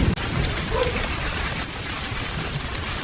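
Heavy, continuous rain pours down steadily at night in a rural village, a dense, even hiss of drops on surfaces with no voices.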